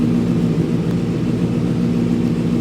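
2024 QJ Motor QJ 600 RR motorcycle idling after start-up, a loud, continuous low engine rumble with a steady throb, close by and without talk.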